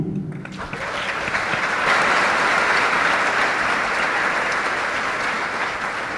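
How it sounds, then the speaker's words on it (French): Loud applause from a large crowd at a graduation ceremony swells in after a brief quiet start and continues as a dense, sustained roar of clapping. "Puissent vos mains exprimer votre gratitude à leur endroit par un applaudissement"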